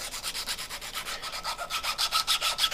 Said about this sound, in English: So now what I do is I take some nice fine grit sandpaper.